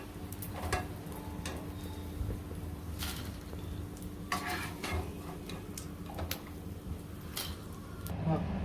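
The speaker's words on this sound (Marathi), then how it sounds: "त्याच परातीमध्ये सगळा डिंक फुलून घेते" Edible gum (dink) puffs up in hot fat in a wide pan, giving a soft sizzle, while a utensil scrapes and clinks against the metal and a voice talks over it.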